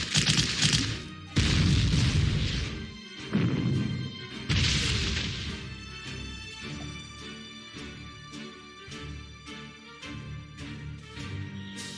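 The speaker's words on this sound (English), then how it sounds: "I think my tank will survive this hit." Artillery in the World War II strategy game Panzer Corps strikes a tank: several heavy booming explosions in succession, then a long, fading rattling series of smaller impacts.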